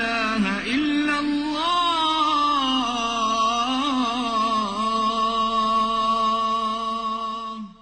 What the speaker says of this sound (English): This is the sound of an Islamic call to prayer.